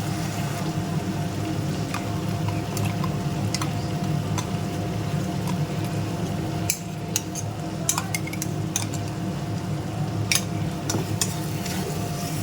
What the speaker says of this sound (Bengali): ধনে পাতাটা দিয়ে ভালো করে কষাতে হবে